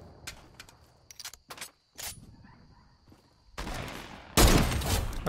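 Gunfire in the video game Fortnite comes as sharp scattered shots, then a dense loud burst of firing near the end, with quieter game sounds between the shots.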